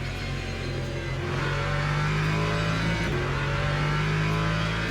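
A race car engine in the Le Mans Ultimate racing game drones at steady high revs, a loud continuous whine that shifts slightly in pitch as the car brakes and accelerates, with no talking.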